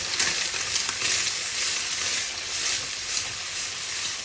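Chopped carrots, yardlong beans, green chilies and tomato frying in a pan give a steady, close sizzle and hiss, with faint stirring scrapes and no voices.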